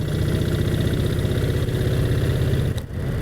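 A Brough Superior SS80 motorcycle engine runs steadily while riding through country lanes, a continuous loud low throb holding even throughout with a brief dip near the end.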